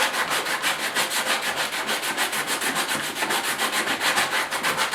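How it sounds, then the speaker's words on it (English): Steady back-and-forth hand sanding of a plastic fender flare with coarse 40 grit sandpaper, a rhythmic, close, scratchy rasp repeating evenly throughout, no talk. "I'm just going to use my 40 grit by hand and rough up everywhere"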